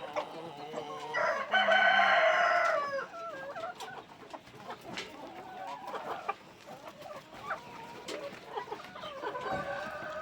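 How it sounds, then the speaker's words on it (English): Chickens cluck and squawk on a farm beside an Azolla pond, a loud crowing burst early on and then a scattered run of softer clucks and calls from several birds nearby. "Back to our chicken."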